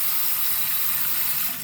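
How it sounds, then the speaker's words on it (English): Water pours steadily from a bathroom sink faucet that will not shut off, a constant broadband rush at even loudness, close by, with a brief knock near the end. "I turned that off, and the water kept running."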